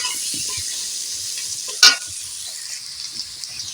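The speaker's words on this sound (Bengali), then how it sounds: "অল্প হলুদ দিয়ে আমি নাড়াচাড়া করতে থাকব আলুটা একটু লাল লাল হয়ে আসবে" Potatoes frying in a pan with a little turmeric, a steady close sizzle with one sharp utensil knock as they are stirred.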